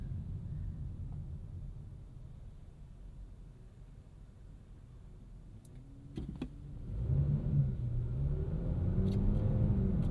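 A 2026 Nissan Sentra SL's engine idles low and steady, then rises into a throaty acceleration as it pulls away from a stop in snow with slight wheel spin, heard from inside the cabin.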